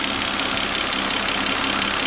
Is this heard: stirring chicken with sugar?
no